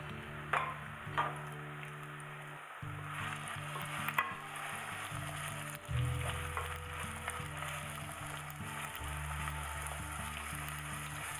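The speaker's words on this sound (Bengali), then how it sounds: "আমার তেলটা গরম হলে আমি সবটুকু পেঁয়াজ কুচি এখানে দিয়ে দিব" Chopped onions fry in about half a cup of hot oil for a prawn malai curry, giving a soft, steady sizzle with occasional stirring scrapes and clinks over a faint low hum.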